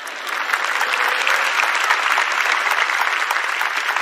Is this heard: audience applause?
yes